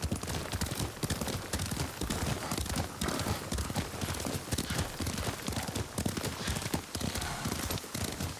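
Steady clip-clop of horse hooves at a running pace in Ghost of Tsushima, continuous and fairly loud against a dense, busy outdoor background, with no voices.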